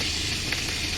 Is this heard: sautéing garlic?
yes